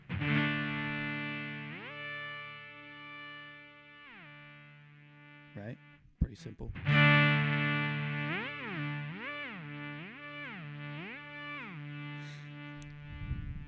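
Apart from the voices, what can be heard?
guitar chord through synth effects pedal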